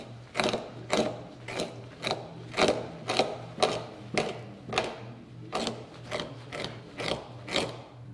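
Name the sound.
fleshing a coyote hide on a fleshing beam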